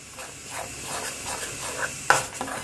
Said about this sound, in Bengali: এখন কিন্তু খুব ভালো করে এটা কষাতে হবে।